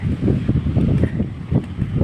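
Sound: strong wind

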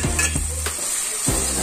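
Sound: sautéing tomatoes in a pan for egg curry

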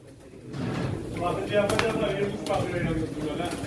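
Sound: pigeons cooing at a pigeon auction

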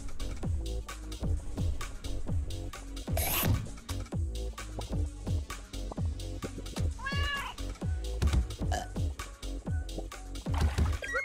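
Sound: cat meowing, wailing

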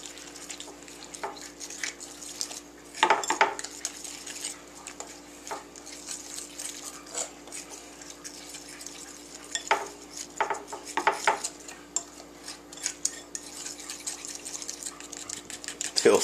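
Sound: mixing McCormick batter mix with water in a bowl

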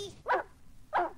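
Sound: dog barking

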